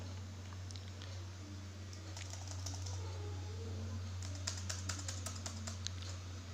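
A mobile number being typed on a computer keyboard while logging into a website: quiet, close keystrokes, a few scattered taps early, then a quicker run of clicks toward the end over a steady low hum.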